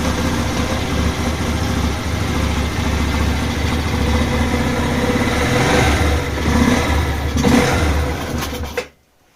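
A Spark 125 moped engine with an air leak after a crash idles roughly and continuously up close, with a hissy, leaky undertone, before cutting off abruptly at the end.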